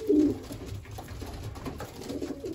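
Racing pigeons coo in a loft, a low throaty burble loudest at the start, then softer repeated coos continuing over a muffled background.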